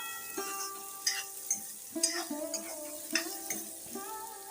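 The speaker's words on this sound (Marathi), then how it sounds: "कांदा पण ना खालून वरून हलवून घेऊया जेणेकरून चांगला फ्राय होईल कांदा" Onions stirred and frying in a pan for a Malvani chicken sukka, a steady close sizzle broken by repeated scraping strokes of the spoon against the pan, with no talking.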